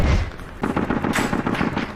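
Rapid bursts of gunfire, loud and close, firing in a quick irregular rhythm after a brief lull.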